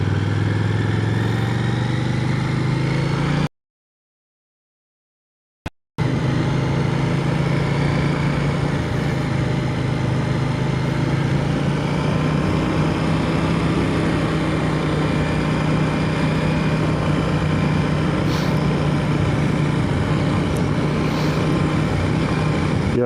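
A BMW motorcycle engine drones steadily while riding, a loud continuous hum with wind rush, broken by a brief dropout of a couple of seconds before resuming unchanged.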